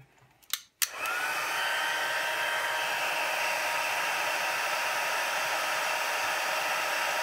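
A heat tool heat-sets embossing on paper for a gate fold card, clicking on and then blowing a loud, steady, close airy whoosh that runs unbroken for several seconds.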